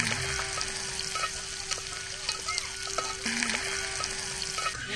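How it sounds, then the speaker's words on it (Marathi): Marinated chicken pieces frying on a flat iron tava set over a wood-fired clay stove, giving a steady, close crackling sizzle that runs throughout with a faint hum and light background clatter. "तव्यामध्ये बघताय आपला चिकन तवा फ्राय होणार आहे मस्त असा"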